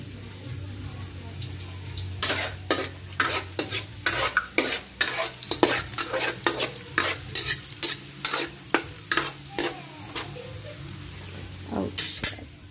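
Food frying and sizzling in a pan before crab goes in, with steady sizzle under repeated sharp scraping strokes of a utensil stirring against the pan, fairly close and busy throughout.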